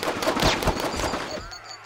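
Several rapid gunshots crack out in a quick burst, close and loud, then the firing stops and leaves a faint ringing tail.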